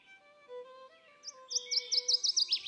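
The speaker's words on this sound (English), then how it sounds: "One example is the ovenbird, a small wood warbler." A single ovenbird, a small wood warbler, sings a clear, whistled song that builds into a rapid series of rising, emphatic notes, close and loud with no other sounds.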